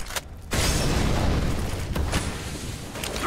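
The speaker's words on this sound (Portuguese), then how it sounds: "Throwing flashbang!" A flashbang grenade detonates in a shooter game with a sudden loud bang, followed by a dense, sustained roar and rumble over several seconds, with smaller pops and mechanical clatter within it.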